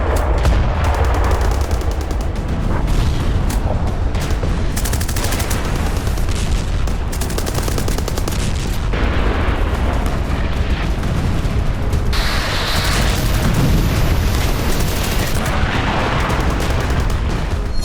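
Explosions and gunfire rip through war footage from the Azerbaijan–Armenia conflict over Nagorno-Karabakh, loud and sustained, with dense bursts of shots and heavy booms overlapping throughout.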